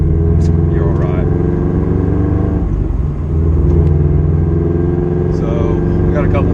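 A Scion FR-S sports car engine pulls hard under acceleration on a straight road in Mexico, a loud steady drone heard from inside the car with a brief dip partway through.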